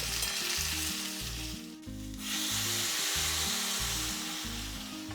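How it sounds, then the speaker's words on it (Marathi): Spice powders, coriander, cinnamon, garam masala and dried fenugreek, stirred in a hot pan, a steady close sizzle with scraping over a low background hum, briefly dipping midway. "अर्धा चमचा कसुरी मेथी आणि हे आपण एकदा हलवून घेऊया."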